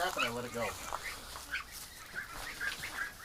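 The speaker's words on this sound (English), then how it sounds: "we're going to get the ducks here into the barn" A small flock of ducks, some with green coloring, quacks in short, fairly faint bursts while being herded into a barn. A person talks quietly nearby.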